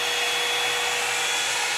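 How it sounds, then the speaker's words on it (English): A blow-dryer curling brush runs continuously up close, a steady airy whoosh with a thin high whine, loud and unbroken with no voices. "It's like a blow dryer curler"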